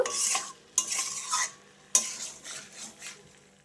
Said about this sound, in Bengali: এখন আমি এগুলোকে খুব ভালো করে একটু কষিয়ে নেব